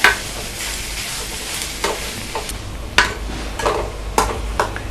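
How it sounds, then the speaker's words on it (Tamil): Green chili, ginger and grated coconut stirred and sautéing over low heat in a pan, a steady soft sizzle broken by intermittent scraping stirs, close and alone without any talk. "இப்போ சிம்மில் வச்சுட்டு நல்லா வதக்கிக்கோங்க."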